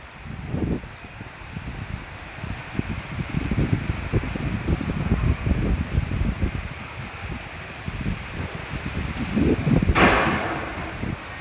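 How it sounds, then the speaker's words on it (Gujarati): A windstorm with heavy rain makes a continuous rushing roar with gusty, rustling swells and one brighter burst near the end, with no voices. "વાવાઝોડા સાથે છે વરસાદ"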